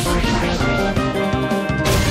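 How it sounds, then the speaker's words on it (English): A smashing attack landing in Pokémon Battle Revolution, a loud impact crash over bright layered game music and effects, lasting about two seconds. "A smashing blow."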